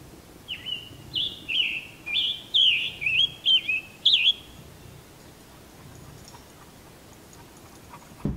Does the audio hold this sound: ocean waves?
no